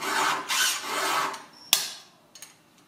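Hand file rasping across chainsaw cutter teeth, a few short close strokes of gritty scraping followed by a sharp metallic tap and quieter clinks.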